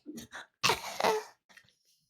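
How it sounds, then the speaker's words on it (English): A person coughs and clears their throat in a few rough bursts, close to the microphone, followed by faint breathy sounds. "I'm fighting back a cough"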